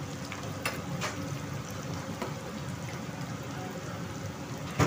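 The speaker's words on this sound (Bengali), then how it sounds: "পেঁয়াজটা ভাজা হয়ে গেছে" Onions fry in oil for a mutton curry, a soft, constant crackling sizzle with a few sharper pops, heard fairly quietly and alone.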